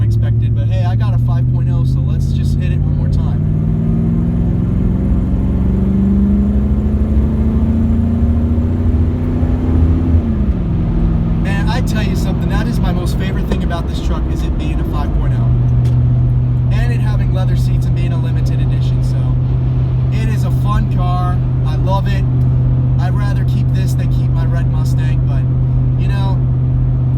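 A 1996 Ford Explorer Limited with a 5.0 V8 pulling hard, engine drone rising steadily in pitch, dropping at a shift, then holding a steady cruise note, with someone talking over it from inside the cabin.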